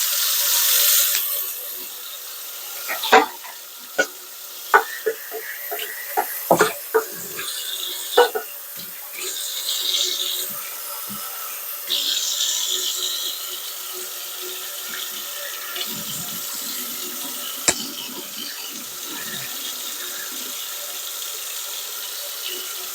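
Cold water running from a kitchen tap over white rice being rinsed, a steady splashing stream with scattered clicks and knocks of the pot and grains being swished by hand.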